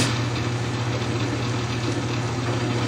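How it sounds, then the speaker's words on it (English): A lubricity test machine with an oil-lubricated rotating race runs steadily, giving off a continuous low motor hum with a faint mechanical whir, alone and constant with no talking. "Switch on the machine."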